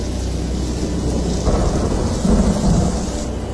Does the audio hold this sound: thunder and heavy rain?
yes